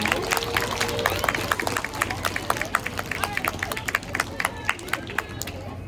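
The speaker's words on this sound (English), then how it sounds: "let's give a round of applause for our integrity life school winners" An audience at a school life-skills assembly claps, sharp uneven hand claps over crowd babble and movement, fairly close and lively throughout.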